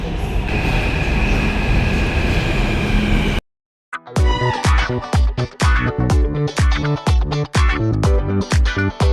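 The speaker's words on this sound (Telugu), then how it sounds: "మెట్రో కూడా కరెక్ట్ టైంకి వచ్చేసింది." A steady rumble and hiss cuts off abruptly, then a Hyderabad metro train's wheels clatter in a quick, rhythmic series of loud clacks over the rails.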